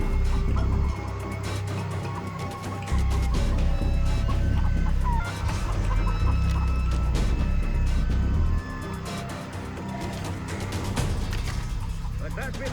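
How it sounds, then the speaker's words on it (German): A rooster clucks in the Far Cry 3 video game, set among loud, busy game sounds and low rumbling, with someone talking over it throughout. "Dieser Gockel, ha?"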